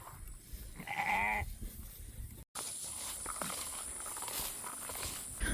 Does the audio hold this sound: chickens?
no